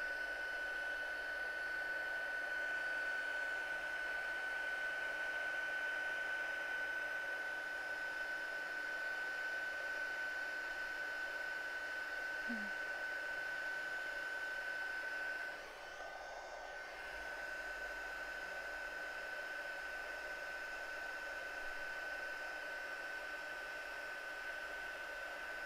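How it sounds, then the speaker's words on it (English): A craft heat tool runs for heat-setting embossing, giving a steady, loud blowing hiss with a constant high whine that holds the whole way through. It dips briefly once, and no voice is heard over it. "So I usually let my heat tool warm up a little bit."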